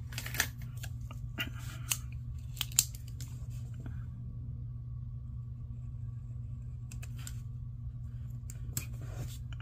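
Scissors trim a piece of paper in a few faint, sharp snips scattered over a steady low hum, close by and otherwise quiet.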